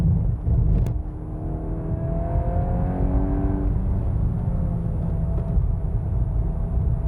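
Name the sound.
car accelerating with gear shifts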